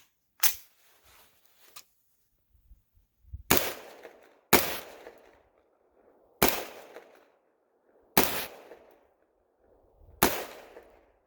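Unsuppressed gunshots from a Primary Arms FM9 7-inch pistol firing 115 grain round-nose rounds, one near shot then five evenly spaced sharp cracks, each with a short ringing tail.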